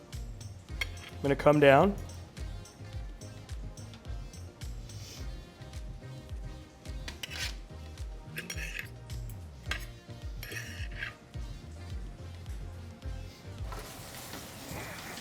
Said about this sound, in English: Using fork and a fish spoon, we're gonna start to remove the spine.